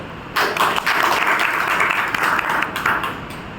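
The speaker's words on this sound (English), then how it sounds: "Big round of applause." A room of attendees at a Toastmasters club meeting applauds after a brief quiet moment, the clapping rising quickly and holding steady at moderate volume before tapering slightly.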